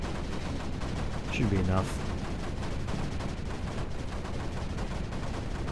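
Turrets in a video game firing as a dense, continuous roar of gunfire under a brief spoken remark, loud and unbroken throughout.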